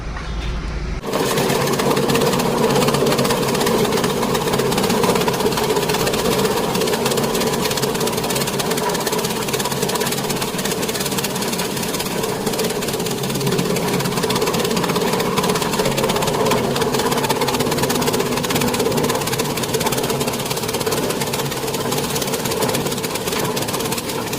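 An engine-driven chaff cutter runs steadily and loudly throughout, a constant droning motor hum with a faint knocking rhythm and no pauses.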